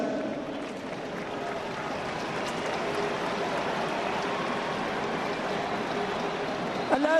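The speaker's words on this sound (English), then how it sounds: "it's raining" Steady rain hisses down at an outdoor stadium during the closing minutes of the 2010 All-Ireland Football Final between Cork and Down, a constant soft wash of noise with a brief rustle near the end.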